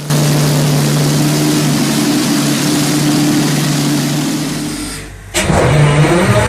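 A Rolls-Royce 27-litre liquid-cooled V12 piston aero engine runs steadily with a loud, sustained drone, then cuts out briefly near the end before a burst of noise returns.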